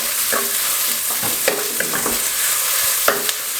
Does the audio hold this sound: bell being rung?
no